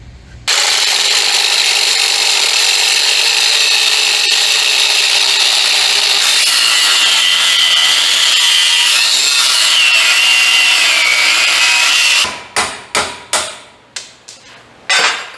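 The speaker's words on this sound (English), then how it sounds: "I guess we'll use my cut-off wheel," Cut-off wheel grinding a notch into a steel crossmember on a homemade trailer, a loud continuous high-pitched whine and screech lasting over ten seconds, followed by several sharp metallic taps and knocks as the cut piece is worked free.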